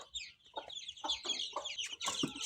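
Hens cluck in short, repeated bursts as they are fed rice, several birds close by, with a busier, louder squawk near the end.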